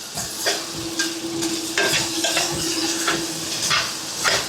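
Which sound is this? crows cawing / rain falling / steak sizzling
steak sizzling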